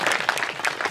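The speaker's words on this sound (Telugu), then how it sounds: "మనకు మనమే చప్పట్లు కొట్టుకోవాలండి," An audience at a Gayatri yagya gathering claps in a brief, dense burst of applause from many hands, fairly close and alone without talk.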